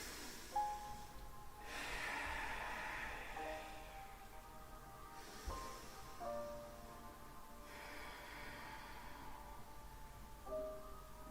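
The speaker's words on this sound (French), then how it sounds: "Inspirez avec le ventre." Slow, deep nasal inhalations during a home breathing exercise, drawn in long steady breaths that swell and fade in a repeating rhythm, close and fairly quiet with no talking over them.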